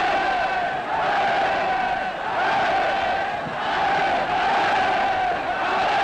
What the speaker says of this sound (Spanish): Hitler se acercaba y sus fanáticos seguidores le vitoreaban.